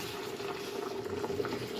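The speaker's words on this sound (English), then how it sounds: "I will add in some water now" Water goes into a hot cooking pan holding a butternut squash sauce base, giving a steady, close sizzling and bubbling hiss that runs evenly throughout with no talking.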